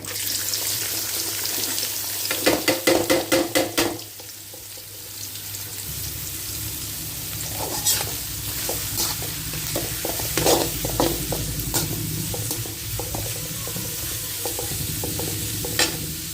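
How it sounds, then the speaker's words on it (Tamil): Chopped onions sauté in oil with cumin seeds and curry leaves for a chicken kuzhambu, a close steady sizzle punctuated by scraping spatula strokes and clattering stirs, with no speech. "வெங்காயம் வதங்கிறதுக்காக இது வதங்கிட்டு இருக்கட்டும்"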